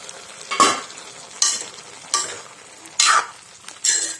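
Raw banana and red gram thoran, a Kerala-style stir fry, stirred in a pan. Five distinct scraping, sizzling bursts come at an irregular rhythm, close and clear, with quiet gaps between and no voices.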